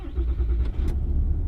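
The diesel engine of a brand-new truck rumbles steadily while driving, with a loud, continuous low drone and road noise.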